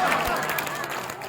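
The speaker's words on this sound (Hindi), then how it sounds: "एक बार और ताली बजा के प्रेम से हंसी करो" A crowd of pilgrims on the Braj 84 Kos Yatra claps hands together, a dense, continuous patter of many hands with a busy hubbub of voices mixed in.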